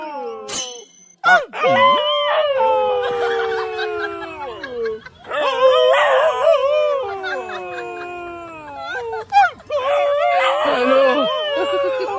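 A man imitates a dog's howl in long wavering wails, repeated three times with short breaks, loud and close.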